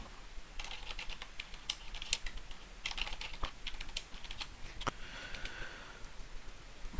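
Someone types on a computer keyboard while filling in an online form: faint, irregular key clicks in bursts, with occasional louder taps against a quiet background.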